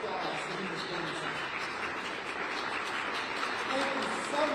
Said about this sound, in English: Let's give a great big round of applause to Ms.